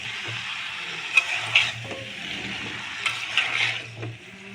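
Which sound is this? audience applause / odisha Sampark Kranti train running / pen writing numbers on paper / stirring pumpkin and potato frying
stirring pumpkin and potato frying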